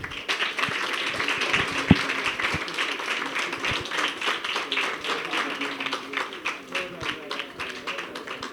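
Audience at the Koom Koom literature festival in Ziguinchor, at the Prix Nouha Cissé ceremony, gives a steady round of applause, with sharp individual claps standing out from the moderate, even clapping.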